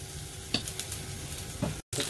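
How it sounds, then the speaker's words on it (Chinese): Mushrooms sizzle as they fry in oil in a pan, a steady close crackle with a few sharp stirring scrapes, during preparation of fried beef in sauce. "你要煎下佢。 加翻啲油落去"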